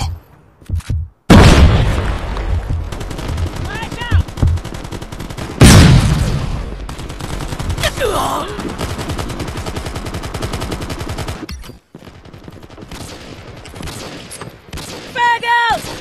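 A frag grenade blast and rapid automatic gunfire in Call of Duty Mobile: a heavy boom, another big explosion shortly after, then sustained loud weapon fire with in-game voice callouts and short electronic chirps.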